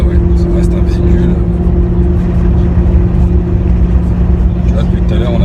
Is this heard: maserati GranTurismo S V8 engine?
yes